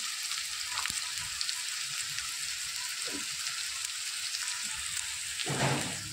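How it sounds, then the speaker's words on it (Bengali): Whole garlic cloves fry in a pan with a dense, steady hiss of hot oil, close and fairly loud, with a couple of soft clinks and a brief utensil scrape near the end, no voices. "এরপরে দিয়ে দেবো আমি গোটা রসুন।"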